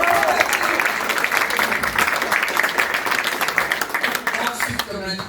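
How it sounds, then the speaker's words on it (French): Players at an Age of Sigmar league match day in Brittany applauding themselves, a dense, steady roomful of clapping lasting about five seconds before it thins out. "Vous pouvez vous applaudir."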